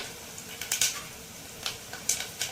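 Onions frying in a pan while mutton curry with dosakaya is being made, giving a faint, steady sizzle with a few soft crackles and stir clicks close by.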